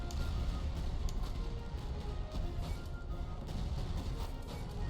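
Artillery fire in the Napoleonic-era strategy game Master of Command, an Austrian artillery battle, heard as a continuous dense rumble of overlapping booms and crashes with no clear gaps between shots.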